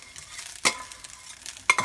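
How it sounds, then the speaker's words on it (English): Rice sizzles and hisses in a hot frying pan while being stirred, with two brief scraping clatters of a utensil against the pan and no talking. "let me dig it out and slap it into this pan and we'll fry it"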